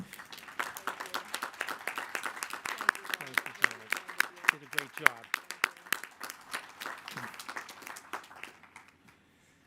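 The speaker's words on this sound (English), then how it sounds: "please give a round of applause to the MCCA and Janet" Graduation ceremony crowd at Fisher College claps in a long, dense round of applause, many hands close and loud, while a speaker's voice talks over it before the clapping tapers off and stops.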